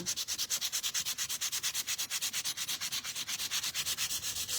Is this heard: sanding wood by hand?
yes